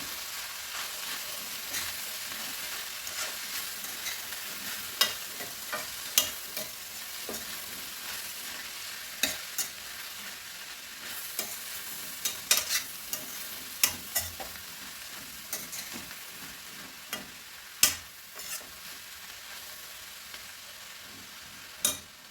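Cabbage curry being stirred in a pan after coriander powder is added, a steady low sizzle with repeated scraping clicks and taps of the spoon against the pan throughout, fairly quiet and close, with no talking.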